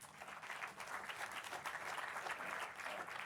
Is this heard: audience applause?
yes